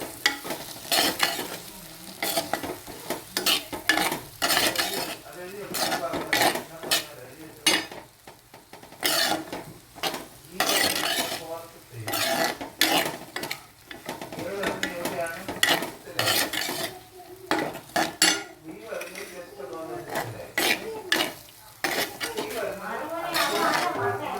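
Egg curry masala being sautéed in a pan, with repeated scraping and stirring clatter of a spoon against metal over a steady close sizzle, busy and irregular throughout.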